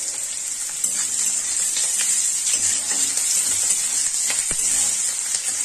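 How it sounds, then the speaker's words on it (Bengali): Pasta frying in a pan for a pasta dish gives a loud, steady, close sizzle with a bright hiss that runs unbroken throughout, dotted with small pops and crackles and no voices. "2 মিনিটের মতো ভাজতে হবে, যাতে কাঁচা ভাবটা না থাকে"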